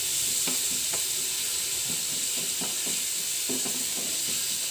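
A spoon stirring a ripe tomato curry in an open pan, with a continuous loud sizzle and hiss under a run of regular scraping strokes.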